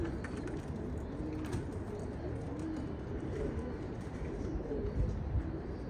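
Soft, low pigeon coos repeat faintly beneath a steady wash of background noise.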